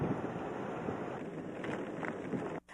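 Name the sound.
strong typhoon wind from Typhoon Nesat (Pedring)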